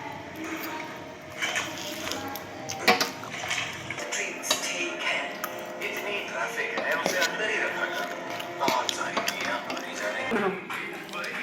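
Chow mein with onion being eaten with cutlery, close clinks and scrapes of utensils on a plate with soft squishy noodle sounds, irregular and continuous, with a voice talking over it.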